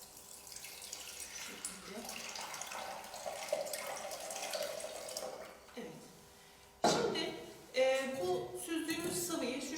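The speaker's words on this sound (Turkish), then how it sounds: "süzgeç yardımıyla lahanalarını süzüp sıvı kısmını elde ediyoruz" Boiled cabbage poured through a strainer to collect its liquid, a steady watery pouring and trickling into a vessel, near and continuous, with a brief pause and then sharper splashing toward the end.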